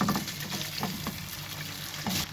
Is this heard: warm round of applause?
no